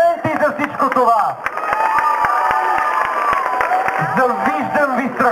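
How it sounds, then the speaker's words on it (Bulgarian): A crowd at a town festival cheers and shouts while some people applaud during an outdoor speech. Voices rise and fall in loud overlapping whoops, with children shouting and sharp claps scattered through. "Аплодисменти за всичко това!"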